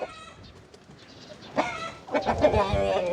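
A rooster among hens, with clucking and fowl calls that grow louder toward the end, mixed with background voice noise.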